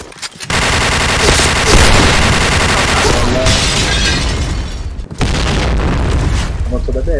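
Loud, dense automatic gunfire and booming shots in a video game rattle on almost without pause, breaking off briefly once before resuming.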